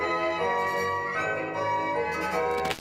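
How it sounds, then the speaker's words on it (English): Small notification bell ringing, a clear tonal bell chime sustaining and fading over a few seconds, alone with no voices. "ring this small notification bell to join us on the bright side of life"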